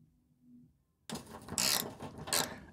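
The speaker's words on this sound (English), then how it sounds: "We now need to undo another bolt" Ratchet wrench undoing a 10mm bolt on a Nissan Micra K11 front wing, silence then a burst of rapid close clicking with a couple of brighter ratcheting strokes.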